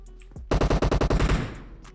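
A rapid automatic burst of gunfire in the shooter game PUBG Mobile, about ten sharp close shots in quick rhythm lasting around a second, then fading ring-out, loud and without speech.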